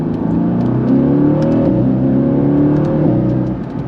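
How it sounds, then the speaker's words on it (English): A 2018 Mercedes-AMG GT V8 downshifts with a loud, close, rich engine note, revs blipping and settling over a few seconds with no talking. "the V8 downshift"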